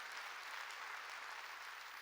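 A church congregation clapping together, a dense, even wash of applause held at a steady level throughout, fairly distant and soft, with no clear individual claps standing out.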